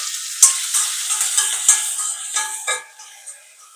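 Tempering spices fry in a small pan with a sharp, close sizzle and crackle, punctuated by quick metallic scrapes of stirring before the hiss fades out.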